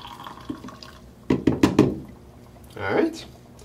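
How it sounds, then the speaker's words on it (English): Hot water is poured from a kettle into an AeroPress coffee maker on a cup, after a few sharp clunks of handling, as a brief splashing gush up close. "I've got my hot water here to the number two, AeroPress, top of the cup, and I pour it in."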